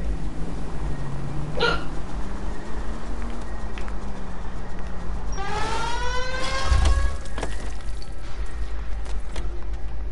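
Person hiccuping during an L.A. Noire car chase, with a couple of brief hiccup bursts over constant game engine hum and music.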